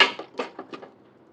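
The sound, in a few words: stirring tomatoes and salt in a cooking pan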